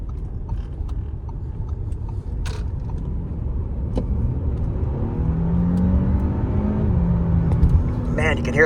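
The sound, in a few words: turbocharged car engine, turbos spooling up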